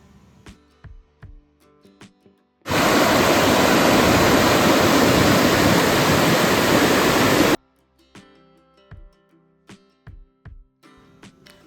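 Clear stream water rushes loudly beneath a bridge near Hebbe Falls in Chikmagalur. The steady roar lasts about five seconds, framed by quieter clicking and tapping before and after.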